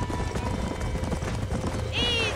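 Horses in Red Dead Redemption clip-clop in a steady, close hoof rhythm, with a short whinny near the end, while background voices talk faintly underneath.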